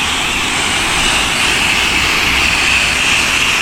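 A pressure washer fitted with an M5 and X-Jet setup sprays plain water over a house and tall chimney, a loud, steady hiss running unbroken throughout with no talking.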